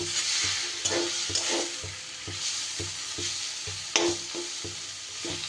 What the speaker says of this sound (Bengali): শাক আর ডাল কিন্তু খুব সুন্দর করে এইভাবে গ্যাস কমিয়ে নাড়িয়ে চাড়িয়ে কিছু সময় ধরে আমাকে ভেজে নিতে হবে